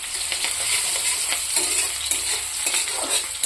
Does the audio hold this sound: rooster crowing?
no